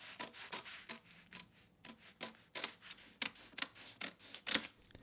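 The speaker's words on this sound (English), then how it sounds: "The 3D printed part is placed on a piece of carbon vinyl, which is cut out slightly larger than the required size." Scissors cutting a sheet of carbon vinyl around a 3D printed part, a string of close, crisp snips and rasping rubs at an irregular rhythm, with no voices.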